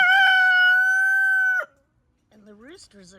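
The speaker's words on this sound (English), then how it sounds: "What's wrong with these roosters?" A farmyard rooster crows once, loud and close, in a long sustained call that breaks off sharply, followed by a short pause and then a voice speaking.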